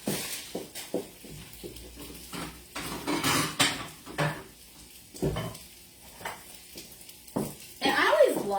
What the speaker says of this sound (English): I'm going to scoop some onto a plate so y'all can see it